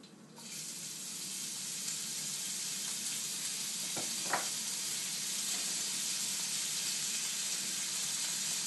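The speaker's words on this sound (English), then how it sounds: "So we're going to begin immediately with the pancetta is going in." Pancetta frying in a small pan as a Bolognese ragù begins, a steady close sizzle that starts abruptly and holds evenly, with a couple of brief clinks midway and no talk.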